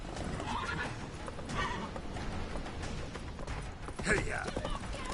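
Roach, a horse in a PS4 video game, gallops with a steady run of hoofbeats under game sounds, and a brief whinny rises near the end, while voices talk over it.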